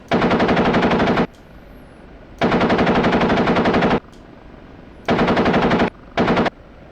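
An OH-58D Kiowa Warrior helicopter gun in the DCS flight simulator fires four loud, rapid automatic bursts, the longer ones over a second each and a final short one, separated by brief gaps of engine hum.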